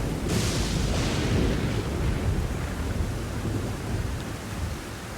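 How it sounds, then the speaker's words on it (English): Thunderstorm rumble in Elden Ring, a loud broadband crack near the start that settles into a dense, sustained roll of thunder and rain-like noise throughout, with no talking. "I still can't figure out where that lightning's coming from."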